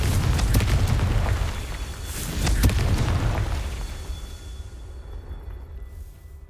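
A Confringo spell explosion in the video game Hogwarts Legacy: a deep rumbling boom with sharp crackling bursts, swelling again midway before fading into a quieter tail.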